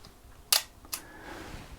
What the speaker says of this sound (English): the shutter's opening and closing within about a quarter of a second